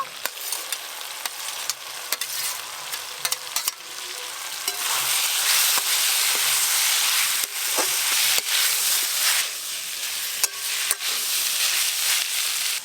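Fried banana stem and potato dropped into hot spice paste in oil, a rising loud sizzle with stirring clatter and spoon taps, close and continuous after the ingredients go in.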